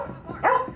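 A single short, sharp dog bark from a Cyanide & Happiness cartoon, close and fairly loud, standing alone in a brief moment.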